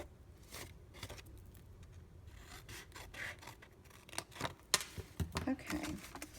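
Scissors snip through scored cardstock for a paper candy treat box, a run of quiet, irregular cuts and rustling paper handling at close range, growing louder and more clustered toward the end.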